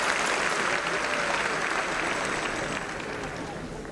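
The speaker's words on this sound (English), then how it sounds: "Can we give him a big round of applause?" Loud, continuous applause from an audience at a school district kickoff event, a dense wash of clapping that stays strong throughout and tapers only slightly toward the end.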